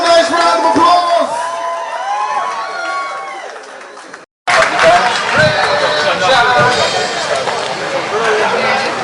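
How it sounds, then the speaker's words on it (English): An audience at a steelpan finals competition breaks into applause and cheering, a loud dense wash of clapping and whoops from a large crowd, briefly cutting out before resuming with voices mixed in. "Give them another nice round of applause."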